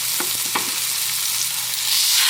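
Chicken patties sizzle in a pan, a bright continuous hiss of frying fat with a couple of soft scrapes near the start, close and loud with no talking.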